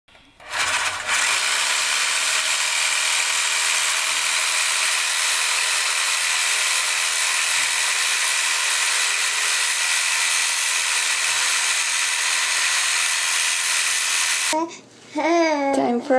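A power tool cuts through a cracked section of sewage pipe, a steady loud high-pitched whine running continuously for about fourteen seconds before cutting out, followed by a brief burst of a child's babbling.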